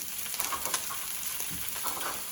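Mixed vegetables fry in a pan with a steady, close sizzle and a few light crackles and stirring scrapes throughout, with no voices.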